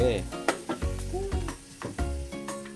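Loud, steady sizzling of snakehead fish frying in hot oil, with crackles and occasional clinks of a utensil against the pan.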